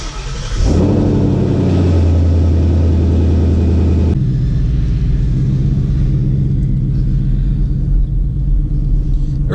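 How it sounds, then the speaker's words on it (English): A 2016 Mustang GT V8 fires up with a loud starter catch and sharp rev, then settles into a deep, steady rumbling idle and low cruising drone, close and unbroken, with no talking. "Start the car up and head out."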